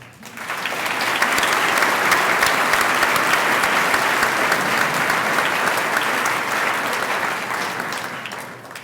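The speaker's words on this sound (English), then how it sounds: "Let's honor these important people, as we just have, with a round of applause." Sustained applause from a large audience at a high school commencement ceremony, a dense, steady wash of clapping that swells in quickly and holds loud for several seconds before easing slightly at the end.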